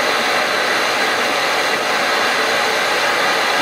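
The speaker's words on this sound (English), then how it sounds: "I'm going to come around to the front of the torch now, trying to get full use of the flame to heat the entire bulb" A glassblowing torch flame roars steadily and loudly while heating a whole glass bulb for a blown glass globe, a continuous broadband hiss with no pauses and no voices.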